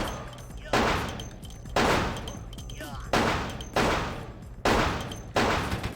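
Gunfire from a gun in the PC game Vampire: The Masquerade - Bloodlines: five loud, sharp shots spaced roughly a second apart, each with a quick decaying tail, fired in a steady rhythm with a faint voice underneath.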